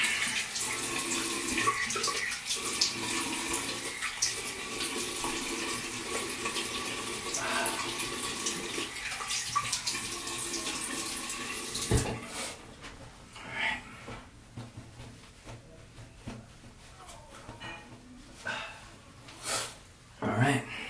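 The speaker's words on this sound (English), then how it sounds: "So we'll just rinse out and then we'll just go for the post shave." Tap water runs loudly and steadily while a shaving brush and bowl are rinsed after a shave with an injector blade razor, lasting about twelve seconds before cutting off, leaving quieter handling sounds and a voice.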